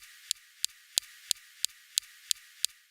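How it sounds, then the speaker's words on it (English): Perseverance rover's SuperCam laser zapping rocks on Mars, a series of eight sharp, evenly spaced clicks roughly three per second, crisp and isolated against faint background hiss. "Next, we have the SuperCam laser zapping rocks."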